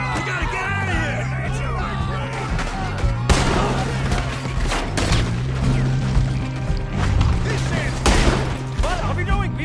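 Gunfire in the Western game Red Dead Redemption 2: several loud, sharp shots crack out at intervals over a dense bed of music and speaking voices.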